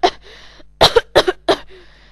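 A person coughs several times in quick succession, sharp close bursts separated by short pauses, with no speech.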